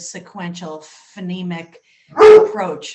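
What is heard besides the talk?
dog barking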